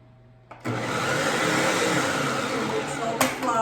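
A food processor starts abruptly and whirs loudly at a steady pitch while blending flour, salt and butter, running for about three seconds before briefly stuttering.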